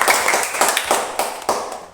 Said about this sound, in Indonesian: Tepuk tangan dulu dong buat yang